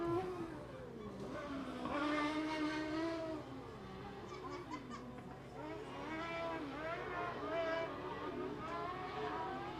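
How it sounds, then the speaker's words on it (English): Race car engines running on a track during a season-finale race round, one engine sounding slightly off; a steady, continuous engine drone with shifting pitch sweeps as cars pass, moderately loud, mixed with some talk. "One of the engines out there is just sounding a little different."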